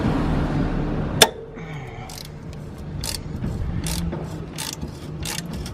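Ratchet wrench unbolting a 14mm bolt on an Acura Integra fork while coilovers are fitted, one sharp metallic crack followed by a series of quick clicking bursts, close up, with no talking.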